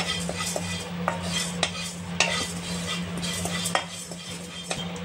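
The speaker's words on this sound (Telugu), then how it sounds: "ఇప్పుడు కందిపప్పు వేపుతున్నాను ఫ్రెండ్స్" Toor dal roasting in a pan for pudina powder, a spoon stirring and scraping with repeated light clinks against the metal over a soft steady sizzle, close and alone.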